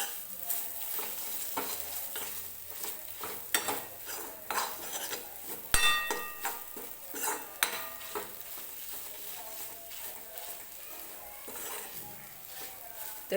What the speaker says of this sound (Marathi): सगळे मसाले व्यवस्थित भाजून घ्यायचे